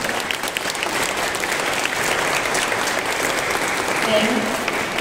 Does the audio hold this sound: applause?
yes